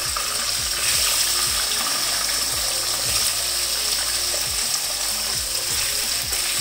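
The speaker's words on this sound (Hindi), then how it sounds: "और इसके अंदर अब मैं डाल दूंगी आलू" Potatoes frying in hot oil with cumin and nigella seeds, a steady close bubbling sizzle with repeated stirring scrapes throughout.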